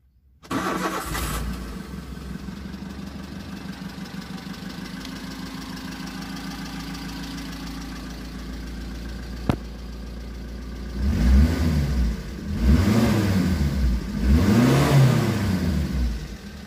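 Daihatsu Zebra Espass 2007 car engine turning over and catching, then idling steadily at close range before three loud rising revs near the end.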